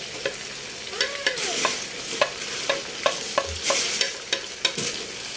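Tofu and bean sprouts (tokwa't toge) fry in a pan with freshly added leaves, stirred briskly: a steady sizzle broken by repeated sharp scrapes and clanks of the utensil against the pan, close and fairly loud, with no voices.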